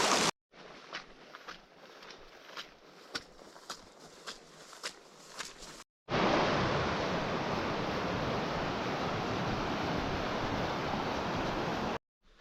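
On a Great Divide Trail hike, river water flows at a crossing: first sparse splashing steps over a soft wash, then a brief gap before a loud, steady, close rush of moving water fills the rest.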